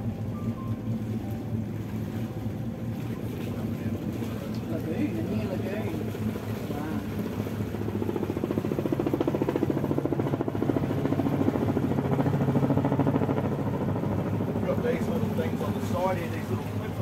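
A Mustang 3200 motorboat engine drones steadily with a low throbbing hum, swelling slightly louder midway, while people talk over it.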